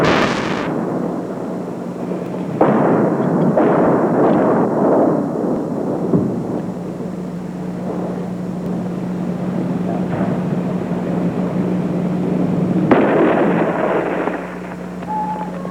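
Heavy fighting around Longcheng, Laos: booming artillery and gunfire blasts in several loud bursts, spread apart, with a droning, aircraft-like rumble running beneath them the whole time.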